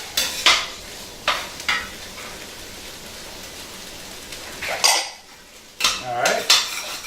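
Vegetables sweating down in a pot for lasagna: a soft, steady sizzle beneath several bursts of metal spoon scraping and clanking against the pot.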